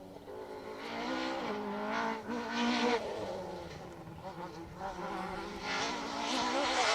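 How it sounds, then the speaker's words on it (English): A rally car engine screams at high revs, bouncing off the rev limiter during a Manx Rally stage, with the loud rasping drone rising and stuttering continuously throughout and a commentator's voice faintly under it. "He'll be bouncing off the rev limiter."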